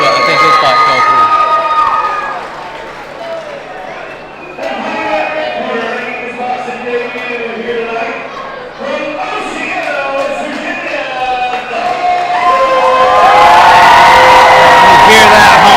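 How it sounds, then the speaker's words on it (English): Loud hometown arena crowd at a boxing video game event, cheering and whooping continuously with shouts, swelling to a roaring peak near the end. "You hear that hometown crowd going crazy for Dalton Estep"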